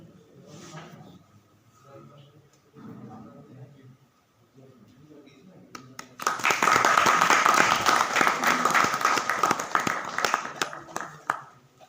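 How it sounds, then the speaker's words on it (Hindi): After a few seconds of quiet talking, an audience at an IGNOU study center launch event in Hisar, India, breaks into loud, sustained applause that continues to the end. "तालियों के साथ"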